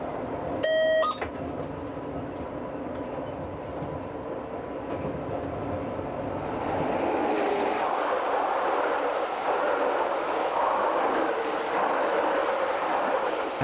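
A Swiss RhB train on the Vereina line rolls along the rails at Ardez with a steady rumble and clatter that grows louder midway, after a short electronic beep near the start.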